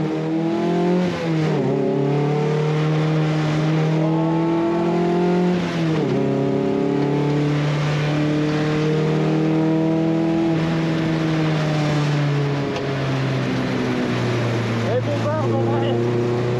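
A car on a race track climbs through the gears, engine pitch rising in repeated sweeps then dropping at each shift, loud and close from inside the cabin.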